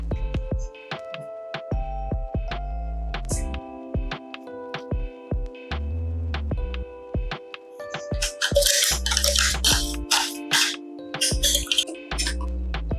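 Thick ground rava and poha batter being scraped and tipped from a grinder jar into a bowl, with a series of close wet drips, squishes and light clinks of utensil against container, no talking.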